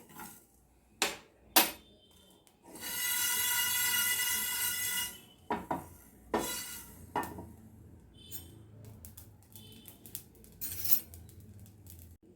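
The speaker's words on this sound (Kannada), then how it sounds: "ಮತ್ತು 1 ಸ್ಪೂನು ಕ್ಲೀನಾಗಿರೋ ಸಾಸಿವೆನೂ ಚಟಪಟ ಅಂದರೆ ಸಾಕಾಗುತ್ತೆ" Mustard seeds spluttering in hot oil while tempering for a small-onion thokku: sharp irregular pops and clinks, with a long dense crackling burst in the middle and scattered single snaps before and after, close and fairly quiet.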